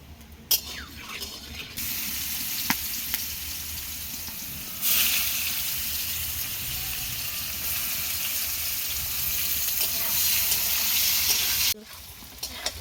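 Paneer frying in hot oil in a pan for a vegetarian paneer dish, a steady broad sizzle that grows louder partway through and holds until it cuts off near the end, with no talking.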